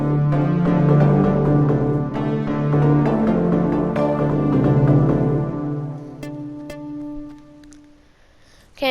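A melody played on video game note blocks, a bright plucked synthetic tune with steady repeated notes, close and clear, fading toward the end.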